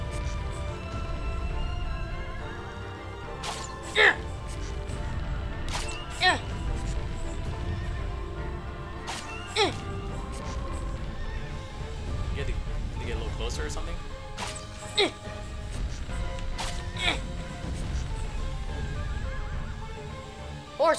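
A horse neighs and whinnies repeatedly in Shadow of the Colossus, its calls rising over a steady rumble of game action and clip-clopping hooves, with a person talking throughout.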